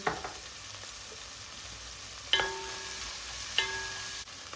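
A spoonful of tomato paste goes into a hot pan with spinach cooking, and a soft, steady sizzle follows. Two sharp metallic clinks of a spoon against the pan ring out and decay. The sound is close and quiet, with no voices.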